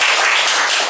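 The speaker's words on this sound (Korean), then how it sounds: "이거 박수 한번 드려야 됩니다" A church congregation breaks into loud, dense applause, with many hands clapping together in a short, continuous burst.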